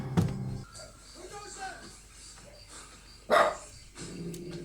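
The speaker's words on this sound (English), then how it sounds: "I know you hear a dog" A dog barks a few times at moderate distance, a sharp bark at the start and another louder one later, mixed with talking voices and background show audio.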